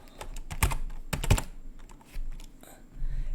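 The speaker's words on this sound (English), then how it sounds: "I want to write something in my host machine" Typing on a computer keyboard on a Linux host machine, a quick burst of close, crisp key clicks in short clusters, then softer scattered taps, with no talking.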